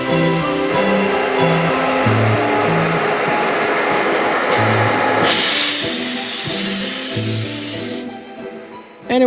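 A freight locomotive works along the tracks with a loud, steady mechanical rumble close by, a sharp burst of hissing air partway through, and shifting tonal sounds layered over the din.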